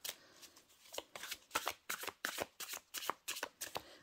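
Symbolon oracle cards are shuffled by hand, a rapid series of about a dozen crisp riffling flutters in quick rhythm, close and fairly quiet, with no voice over them.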